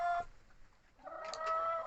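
Chickens cluck softly nearby in an enclosed space, a few short calls over a faint background hum.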